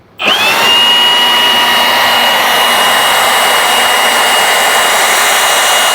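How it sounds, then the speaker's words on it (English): Leaf blower starting up and then running continuously, loud and close with a whining high roar, blasting debris off an RV roof with no talking. "We're gonna start with our leaf blower here and get all this off of here"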